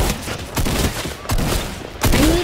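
An assault rifle in the Fortnite battle royale game fires in short repeated bursts, loud and close, with brief gaps between volleys.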